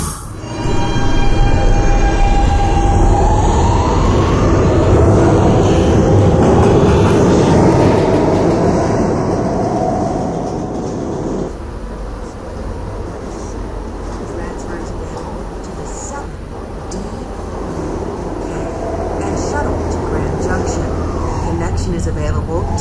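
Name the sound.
subway train running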